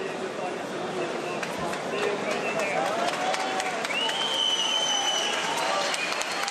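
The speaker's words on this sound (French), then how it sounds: "On peut les applaudir, hein, ils ont fait un grand combat." Crowd applause for two boxers after a hard-fought bout at a ringside boxing event, steady clapping and cheering throughout with a commentator's voice over it.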